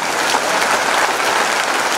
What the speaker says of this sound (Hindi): चलिए ताली हो जाए थोड़ी सी।